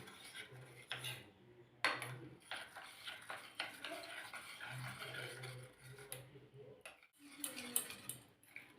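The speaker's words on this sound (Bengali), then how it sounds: "এটা আমি ভালোভাবে নেড়ে দিচ্ছি।" A spoon stirs coloured patishapta batter in a bowl, with scraping clinks and soft taps against the sides, quiet and close, while someone talks over it.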